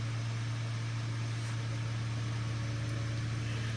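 A Ford Focus 2 1.4 engine idles steadily with a low, constant hum and faint mechanical rattle, unchanging throughout.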